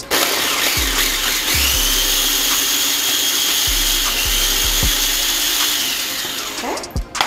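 A kitchen blender chops orange rind and garlic for a citrus vinaigrette, its motor whining steadily and loudly for about six seconds with soft knocks from the contents before it winds down.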